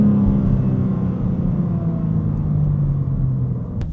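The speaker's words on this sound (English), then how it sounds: "I'm just gonna downshift and you should get the point" A BMW M3 engine rumbling loud and close as it revs on a downshift, a deep continuous growl with rising and falling pitch over a few seconds, with no talking.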